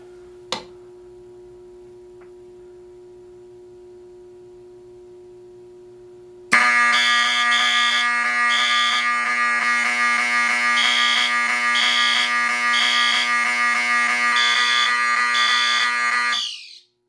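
A Notifier fire alarm system on a demo board is set off by a magnet test of an FSP-851 addressable smoke detector. After a faint hum and one click, a loud electronic alarm tone with a pulsing pattern starts abruptly and sounds steadily for about ten seconds, then cuts off.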